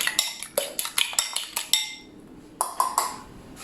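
A fork beating egg in a bowl makes quick, bright metal clinks against the bowl in an uneven rhythm, a steady run of taps followed by a short pause and a few more strikes, close and clear.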